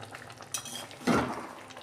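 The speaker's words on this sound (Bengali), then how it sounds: "আমি ঢাকনাটাকে খুলে দিচ্ছি।" A lid is lifted off a pot of kadai chicken, making a short metallic clink and scrape, followed by a faint sizzle and stirring.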